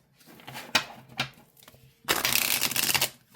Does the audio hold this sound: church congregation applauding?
no